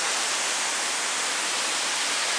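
Artificial waterfalls at La Falda, Argentina, give off a steady, even hiss of falling water, constant and moderately loud throughout with no voices.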